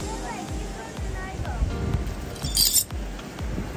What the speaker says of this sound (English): Watch it, a lot of glass in here